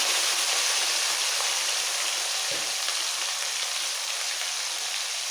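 Tomato quarters hitting hot oil in a pan for a rui fish curry, giving a loud, steady sizzle throughout, with a brief stir or clink midway and no talking.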